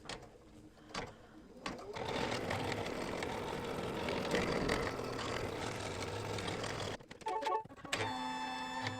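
An embroidery machine stitches the outline of a bib in a steady, dense mechanical whir for several seconds, starting and stopping with brief clicks and clatter at either end, close and loud with no talking.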